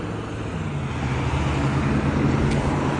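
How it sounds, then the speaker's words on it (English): A BMW car passing in street traffic, a steady broad engine and tyre rumble that stays fairly constant and close throughout, with no speech. "Let this BMW go."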